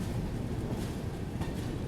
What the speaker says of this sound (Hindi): भोगे स्टेशन से फिलहाल अपनी गाड़ी निकल रही है